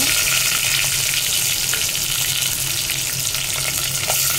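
Green chillies and chopped onion fry in hot oil for a Telugu chicken curry, giving a loud, steady, dense sizzle with occasional stirring scrapes throughout and no talk.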